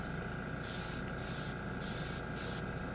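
Airbrush spraying gold chrome ink drawn from a cheap paint marker, four close hissing bursts of about half a second each with short pauses between, over a steady low background hum.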